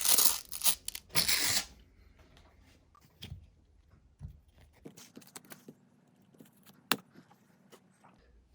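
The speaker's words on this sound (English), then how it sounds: "Now we forget the old paper of 240 and we put a new one." A worn 240-grit sandpaper sheet is torn off and a fresh one fitted while refinishing a varnished wooden surface, giving loud ripping bursts at the start, then scattered soft crinkles and taps.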